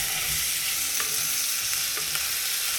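Chopped onion frying with salt in a pan, an even, dense sizzle running throughout with a few soft stirring clicks, close up and with no voices.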